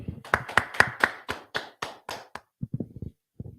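Group of people clapping at a Friday night Hebrew language class gathering, a series of sharp, fairly close claps in a loose rhythm that thins to a few scattered claps with brief pauses near the end.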